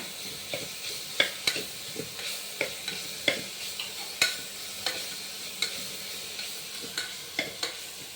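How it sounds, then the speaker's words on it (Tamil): Ginger garlic paste sautéing in a pan: a steady, soft sizzle broken by regular scraping strokes of a spoon about every half second, close and without talk. "வதங்கினே இருக்குங்க இஞ்சி பூண்டு விழுது போட்டாச்சுங்க"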